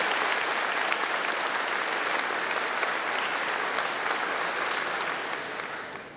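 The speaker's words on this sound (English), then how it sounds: "So if we can give them a round of applause." A graduation awards ceremony audience claps for counselors in full, sustained applause that stays even throughout and tapers slightly near the end.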